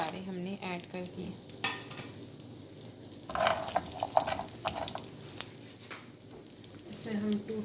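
Dry fruits frying and being stirred in a hot pan for Desi Panjiri, a steady sizzle with scraping stir strokes throughout, while a voice talks faintly in the background.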